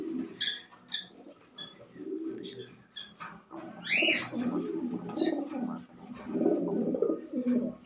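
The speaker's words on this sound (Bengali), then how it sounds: "এখানে আপনারা এক পেয়ার কবুতর দেখতেছেন" A pair of racing pigeons coo repeatedly in low, throaty rhythmic bursts, close by, with a few higher chirps from other birds in the loft.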